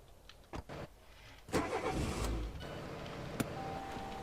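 A car engine cranks and catches in the MTA Anadolu Roleplay game, a short starter whir swelling into a steady idle after a couple of clicks, close and moderately loud.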